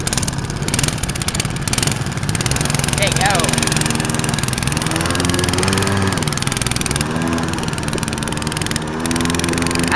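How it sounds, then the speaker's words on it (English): Small engines on a minibike and a four-wheeler, one with hardly any muffler, start up and run loudly nearby at a rough idle with some revving, while people talk over the noise. "He's gonna fire his engine and we're gonna fire our engine."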